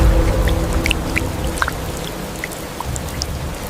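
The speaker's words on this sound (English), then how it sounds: "Rain fell again, and with it," Rain falls steadily in a dense, continuous wash of hiss, with scattered individual drops pattering clearly on top and no voices.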